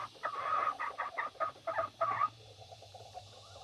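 A Rhode Island hen about to lay an egg gives a quick run of loud, close, rhythmic clucks, then falls quieter with softer murmurs over a low background hum.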